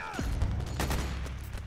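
M60 machine gun laying down suppressing fire in Metal Gear Solid 4, a loud volley of overlapping shots that cracks out at once and then rolls on in a dense, echoing rattle.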